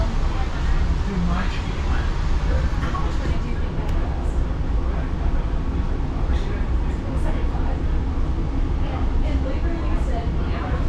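Steady rumble and rattle inside a moving streetcar in Cincinnati, Ohio, continuous low engine and track noise with faint background voices.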